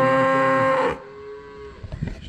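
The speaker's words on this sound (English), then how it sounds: "that F1, that tiger striped cow" A tiger-striped F1 cow gives one loud, close moo lasting about a second, followed by quieter rustling and shuffling.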